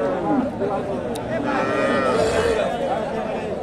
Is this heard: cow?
yes